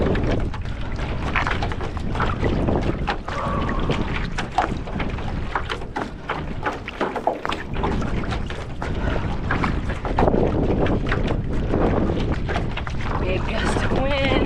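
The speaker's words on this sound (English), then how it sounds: "Big gust of wind." A big gust of wind blows during outdoor interval training, roaring against the microphone as a loud, steady rush for the whole stretch, with a voice at times underneath.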